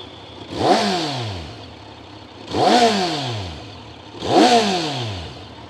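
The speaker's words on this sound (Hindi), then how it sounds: "एक बार रेव कर लेते हैं इसको थोड़ा सा।" Three sharp revs from a Kawasaki Z900 inline-four motorcycle with stock exhaust, each rising quickly and falling away, spaced about two seconds apart over a steady idle, loud and close.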